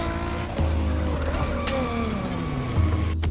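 A car drifts in The Crew Motorfest video game, its engine droning loud and close as tires squeal in a sustained skid, the pitch shifting with throttle changes.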